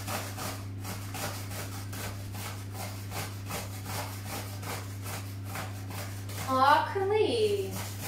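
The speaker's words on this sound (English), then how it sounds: "We're going to grate our cucumber." A cucumber is scraped against a kitchen grater that has just been used on courgette for vegan fritters. The scraping comes in quick, even strokes, close and moderately loud, and a voice briefly cuts in near the end.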